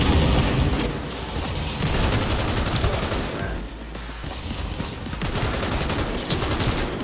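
Dense, sustained gunfire from a gun in Cyberpunk 2077, rapid overlapping shots and bursts filling the whole stretch at loud, steady level with no talk.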